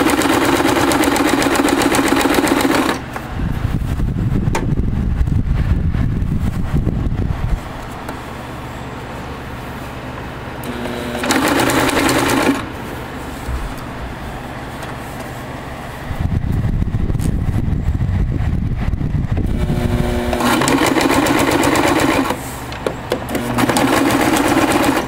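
A sewing machine stitches a weighted blanket in several rapid, whirring runs of a few seconds each, broken by quieter pauses with a low background hum.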